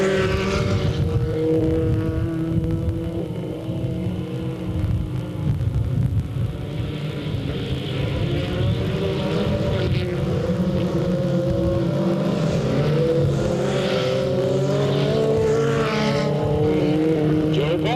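A pack of race cars at Delta Speedway accelerates hard as the green flag falls. Engines rev and drone loudly throughout, with rising and falling pitch and some tire squeal.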